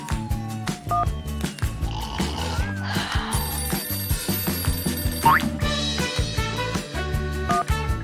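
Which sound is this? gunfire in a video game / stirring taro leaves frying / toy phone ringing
toy phone ringing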